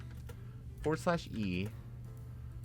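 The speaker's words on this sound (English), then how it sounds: "so I hope I'm typing it right" A person types a DOS command on a computer keyboard, making a few light, scattered key clicks close by while talking over them.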